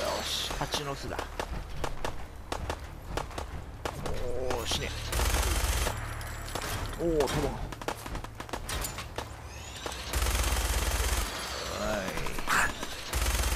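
Bursts of machine gun fire from power armor in the Fallout 4 video game, loud rapid volleys in several bursts mixed with clanking movement, while someone talks excitedly over it.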